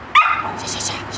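A single loud, close dog bark rings out indoors, followed by a brief tail of yipping tone and faint background talk.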